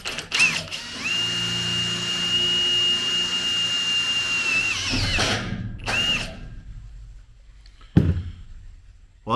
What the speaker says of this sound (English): I'm just going to sink this tech screw in down here.